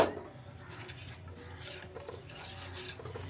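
Pakora batter of gram flour being mixed with water in a bowl, soft repeated scraping and knocking strokes of a spoon against the bowl, close and quiet, with no talk.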